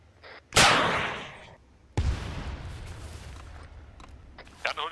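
Loud gunshots in the ArmA 3 military video game: one sharp blast with a long decaying rumble, a second report about a second and a half later, then faint clatter near the end.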